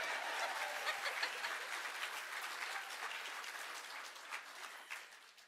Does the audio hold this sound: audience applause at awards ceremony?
yes